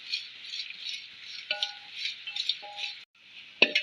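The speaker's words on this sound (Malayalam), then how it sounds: "ഇത് നമുക്കൊന്ന് കുറച്ച് വറുത്തെടുക്കാം" Fresh green corn kernels roasting in a hot pan, a soft continuous sizzle with light rattling and stirring scrapes, close and steady with a brief pause near the end.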